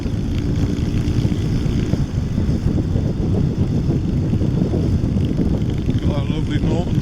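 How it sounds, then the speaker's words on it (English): A Norton Commando motorcycle engine thrums on a ride through Fenland villages, a loud, dense low-pitched beat with wind rush that stays continuous throughout. "Got that lovely Norton sound, my friend."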